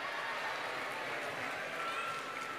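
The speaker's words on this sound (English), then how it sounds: "They're clapping. Are they happy with this?" Children clapping together in a synagogue sanctuary during a Rosh Hashanah children's service, a steady, dense wash of applause filling the room throughout.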